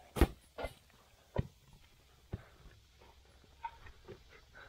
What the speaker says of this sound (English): Puppy got a new ball, but she can't get it.